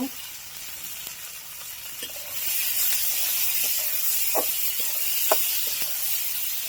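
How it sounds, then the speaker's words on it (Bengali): Onions fry in a pan with green chilies and salt while preparing bata fish bhuna, starting as a quiet crackle and then swelling into a loud, continuous sizzle with scattered sharp pops and stirring clicks. "পেঁয়াজটা এখন ভেজে নিব।"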